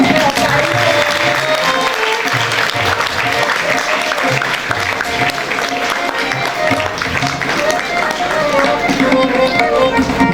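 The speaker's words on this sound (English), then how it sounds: "Audience, you need to clap louder." An award ceremony audience claps loudly and continuously, a dense wash of many hands applauding close by for the full stretch, with no voice standing out.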